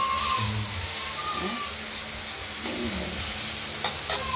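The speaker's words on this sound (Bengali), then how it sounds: "মাছগুলোকে ভেজে নিচ্ছি এখনো পুরো ভাজা হয়নি" Pieces of fish frying in a pan, a steady close sizzle of hot oil with a few scrapes and stirs of a utensil and occasional sharp clinks near the end.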